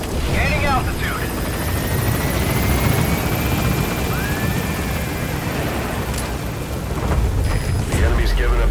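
A helicopter in Metal Gear Solid 5: The Phantom Pain gaining altitude, its loud, continuous rotor and engine roar close and unbroken, with radio voices talking over it.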